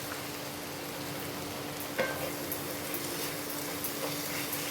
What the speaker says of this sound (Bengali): এবার এই যে টমেটোর রসটা দিয়ে দিলাম।